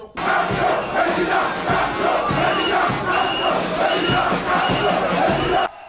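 A large crowd at a Maurice Kamto political rally in Cameroon roars and chants, a loud, surging mass of shouting voices that swells in waves before cutting off abruptly near the end.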